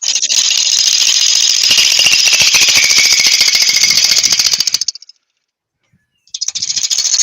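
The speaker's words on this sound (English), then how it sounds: "I'll still use the rough and gouge to start off with" A roughing gouge cuts into a spinning wood blank on a lathe, giving a loud, steady, rasping chatter that runs for about five seconds, stops briefly, then starts again.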